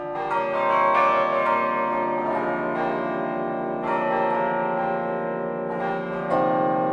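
Tuned bells ring out a melody, struck notes ringing and overlapping above sustained low bass bells, several strikes in steady succession, close and resonant with no speech.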